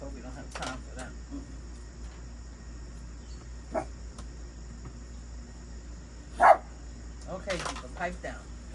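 Another dog barks at a distance in a quiet backyard setting, with a few sharp barks scattered across the stretch and one louder bark near the end, while people talk and insects buzz faintly in the background.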